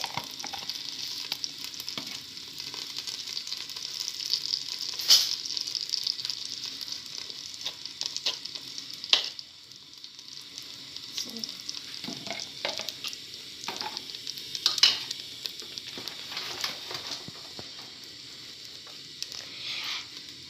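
Butter sizzles steadily in a pan at the start of a béchamel sauce, a continuous close, bright frying hiss with occasional small pops and spoon stirs, and no voices.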